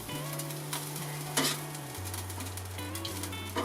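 Food sizzling as it cooks beside smoked turkey, a steady crackling fry with occasional louder spits, close and moderately quiet, accompanied by a low steady hum.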